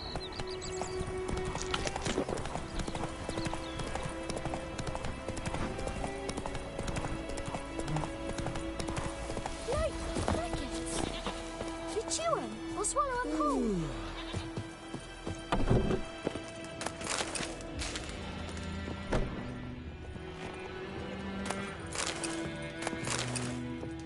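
Horse hooves clip-clop steadily in The Witcher 3 video game, a rhythmic trot mixed with game music and occasional sharp effects. A whinny may also be heard. There is no talking.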